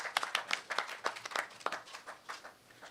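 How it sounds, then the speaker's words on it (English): Scattered, fairly faint applause from a small audience at a tobacco regulation seminar, with distinct individual claps in an uneven rhythm before it thins out. "please give a round of applause to Dr. Mishra"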